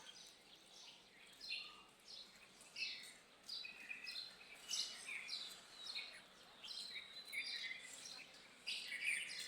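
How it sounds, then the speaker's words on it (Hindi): Morning birdsong outdoors: several birds chirp and tweet in repeated bright bursts, some near and some farther off, continuing steadily over a quiet background with no talking. "पक्षियों की चहचहाने की आवाज़ आ रही है।"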